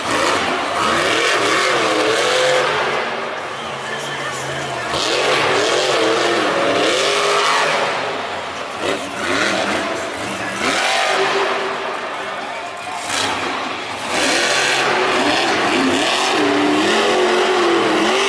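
Monster Jam monster truck, the Mohawk Warrior, revving hard in a Nashville stadium show, a loud continuous engine roar rising and falling through jumps, with an announcer talking over it throughout.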